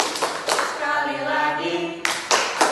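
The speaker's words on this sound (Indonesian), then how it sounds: "Tepuk tangan semua bergembira." Hands clap a few times, then a voice sings a short melodic line before several more claps ring out.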